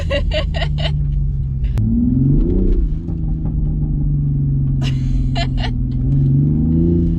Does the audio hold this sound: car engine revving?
yes